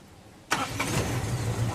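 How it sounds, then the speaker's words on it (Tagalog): An owner-type jeep engine with a leaking gasket and misfire cranks and catches, then settles into a steady rumbling idle close by. "Switch off ko itong makina tapos start ko ulit yan."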